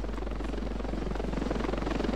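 A helicopter in the video game Ravenfield drones steadily with a dense, continuous rotor and engine roar, holding an even loudness throughout with no voices over it.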